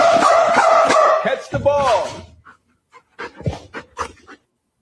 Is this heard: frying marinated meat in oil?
no